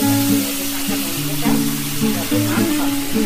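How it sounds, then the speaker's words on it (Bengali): Onion paste sizzling in hot oil with cloves, cinnamon and cardamom, a steady crackling fry under music-like tones and a voice talking, with stirring scrapes now and then. "বন্ধুরা, আমাদের পেঁয়াজ রসুনটা ভাজা হয়ে গেছে"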